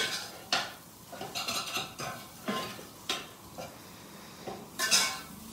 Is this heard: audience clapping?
no